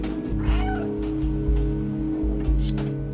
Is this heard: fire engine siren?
no